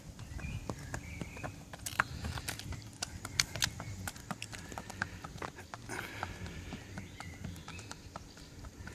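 Hooves of an Andalusian stallion clip-clopping at a walk, a steady run of sharp irregular knocks close by with faint birdsong in the background.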